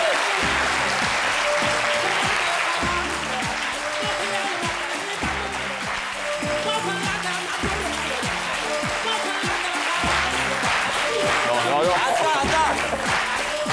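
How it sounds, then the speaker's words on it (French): Studio audience on a French television show applauding, dense sustained clapping with rhythmic bursts, loud and continuous throughout. "Cher public, déroulons un couloir d'applaudissements à Dr Philo."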